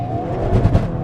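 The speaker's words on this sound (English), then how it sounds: "A bit of axle tramp there." A 2022 Hyundai Kona N with a DCT gearbox drives hard on loose gravel, giving a brief, loud, close engine roar that shudders unevenly as the axle tramps, with no talk.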